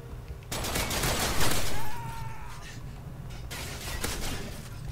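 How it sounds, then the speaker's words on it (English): Gunfire from the video game Call of Duty: Modern Warfare 3 bursts out as a loud, dense volley of rapid shots that peaks for a moment, then continues as scattered firing under game effects. "This guy's shooting!"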